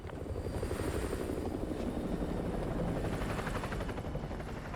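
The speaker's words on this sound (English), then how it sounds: "we'll hide from the thing, the helicopter" A helicopter in Call of Duty: Modern Warfare 2 Remastered (2009 game) gives a steady, loud rotor thrum and engine roar that stays constant throughout, with no talking.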